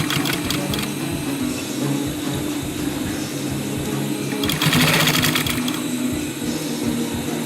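Sewing machine stitching binding tape onto a surgical mask, a loud, steady, rapid mechanical whir and clatter running continuously from start to end.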